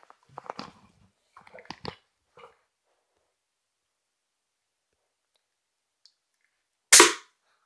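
A toy gun fires one sharp, loud crack near the end, after a few faint clicks and handling noises early on and a long stretch of near silence.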